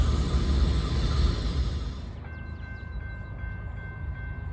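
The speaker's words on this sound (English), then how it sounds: "Got a northbound CSX coming." A northbound CSX freight train approaches near King Mine Road in southern Indiana, a loud low rumble that drops partway through as a faint high whine and tone carry on, with no talking.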